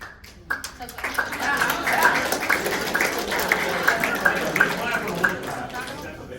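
A room full of people at a leadership summit breaks into applause, steady loud clapping that swells and then continues evenly for several seconds before tapering off, with some talk mixed in.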